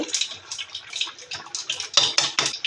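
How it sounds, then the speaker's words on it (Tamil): Rice and water coming to a rolling boil in a pot for Mumbai-style pulao on a gas stove, a close, busy bubbling and sputtering with scattered pops and brief clinks, no talking. "இப்போ பாருங்கள் நல்லா கொதி வந்துட்டு"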